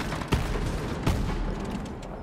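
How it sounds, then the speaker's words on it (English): A Torque shotgun in Borderlands 3 fires like a grenade launcher. Two heavy, booming blasts about three-quarters of a second apart are followed by rumbling explosive tails, loud and close, with no speech. "You see what I mean about torque shotguns just being straight up grenade launchers?"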